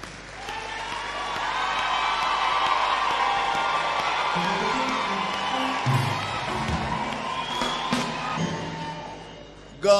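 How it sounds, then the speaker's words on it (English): A crowd at an ANC gathering applauds and cheers, sustained clapping and whoops filling the space at moderate loudness for the whole stretch, with a sharp burst right at the end. "Can we clap for Ramaphosa?"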